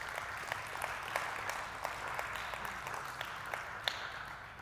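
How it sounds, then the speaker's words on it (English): An audience applauds the sponsors at the Miss Roy 2020 pageant, with steady, moderately distant clapping from a crowd and a few sharper individual claps standing out. "Can we get one more round of applause for these amazing sponsors?"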